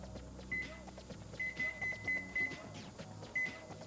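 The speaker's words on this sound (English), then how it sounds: "And reset my timer here for 5 minutes." A kitchen timer chirps in short high beeps, one alone and then a quick cluster and another single, as its buttons are pressed to reset it, over a low hum.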